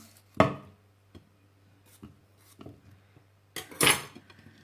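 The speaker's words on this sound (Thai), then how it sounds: "หั่นพริกหยวงลงไป ตำซั่วพริกหยวก หั่นไปเลย" A knife chops bell peppers on a board for a Thai papaya salad, a few scattered, sharp cuts and knocks with pauses between, close and clear in a quiet kitchen.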